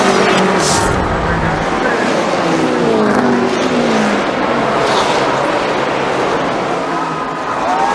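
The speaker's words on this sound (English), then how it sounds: "Tony Stewart wins the All-State 400 at the Brickyard" NASCAR race cars at the Brickyard 400 roar in a dense, continuous engine wash with an excited crowd beneath, loud and steady throughout with passing engine tones rising and falling.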